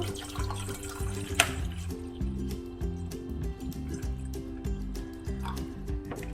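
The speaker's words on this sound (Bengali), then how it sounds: "পরে আমি প্যানটিতে কিছু পানি দিয়ে দিচ্ছি ফুটে ওঠার জন্য" Water poured into a pan to bring it to a boil for a vegetable oats khichuri, with a continuous splashing trickle over a steady low hum and a few sharp drips and clinks.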